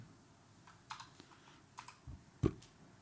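A computer keyboard is typed on in a few sparse, soft clicks close by, with one firmer keystroke near the end, over faint background noise.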